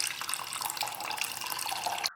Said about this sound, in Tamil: இப்போ இதில் ஒரு 2 கப் அளவுக்கு தண்ணி சேர்த்துக்குங்க.